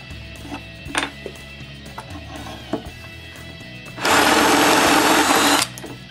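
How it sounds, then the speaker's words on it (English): A drill with a brad point bit bores a bigger hole while a Ski-Doo trunk is being built, a single steady high whir of about a second and a half that follows a few light taps. "Then I find the center and drill a bigger hole."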